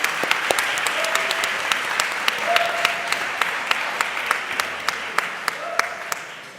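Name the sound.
audience applause for speaker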